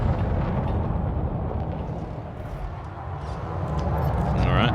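A ship exploding in combat in the space game Elite: Dangerous, a loud sustained rumbling roar that swells and rolls on through the clip, with a faint rising whine near the end.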